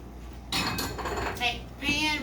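A cooking pan set down against the edge of a stove after boiling eggs, giving a few close metallic clanks and scrapes of cookware over quiet kitchen background.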